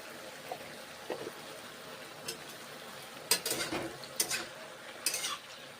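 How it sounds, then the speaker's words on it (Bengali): Okra cooking in a pan with a little water, stirred with a utensil: a soft background sizzle broken by several sharp scraping and clinking strokes of the spoon against the pan, close up and without talk. "নেড়ে চেড়ে কুক করছি।"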